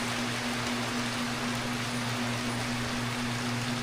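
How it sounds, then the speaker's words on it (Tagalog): Steady rain falls on a farm in the evening, a soft, even hiss throughout with a low hum underneath and no voices. "May ulan."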